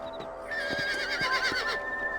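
A horse in the video game Red Dead Redemption gives a loud close whinny over a few evenly spaced hoof clops, with a faint game tone under it.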